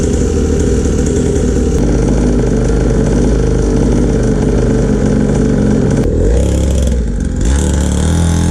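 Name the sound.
Syx Moto mini dirtbike engine idling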